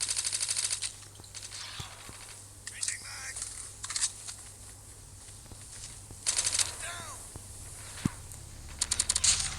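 Gunfire in a Call of Duty 2v2 match, with rapid automatic bursts and single shots coming in clusters over a steady game background, moderately loud, while a player murmurs quietly.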